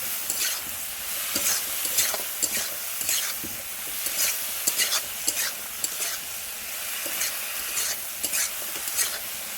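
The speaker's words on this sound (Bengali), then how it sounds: "এটাও ভালো করে নেড়ে নেবো।" Salted vegetables giving off water are stirred in a cooking pot with a spoon, making repeated scraping and clinking strokes in a loose rhythm over a soft, steady sizzle, close and fairly quiet.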